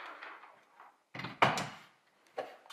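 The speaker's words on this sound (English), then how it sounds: "Get that door working." The sliding door of a Volkswagen Caddy van under restoration is worked by hand, giving two close, sharp rolling and thudding bursts, then a softer knock, with quiet gaps between.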